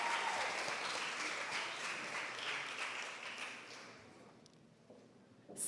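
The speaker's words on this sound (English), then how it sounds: "Let's clap a little loud and cheer them on." An audience at a primary school graduation applauds, a dense wash of clapping that starts loud and fades toward the end, with a few scattered claps trailing off.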